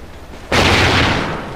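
A grenade detonates at a gate in Call of Duty: Ghosts, a single sudden loud blast after a quiet moment, followed by a broad rumbling roar that slowly fades, near and alone.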